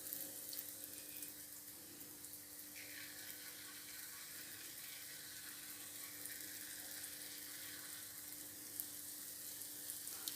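Jalebi batter frying in hot oil in a home kitchen, a steady soft sizzle and crackle continuing throughout, fairly quiet and close, with no talking.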